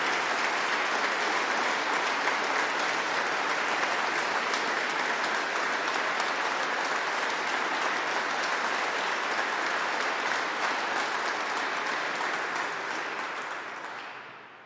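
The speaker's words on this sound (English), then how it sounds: "let's give her a massive round of applause" Sustained audience applause fills a cathedral during a choral competition evening, a dense steady roar of many hands that holds at full strength before tapering off near the end.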